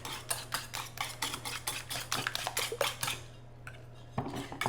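A whisk or spoon beats custard with vanilla for a rhubarb tart in a bowl, making rapid, rhythmic clinks and scrapes close up that pause briefly near the end, then resume.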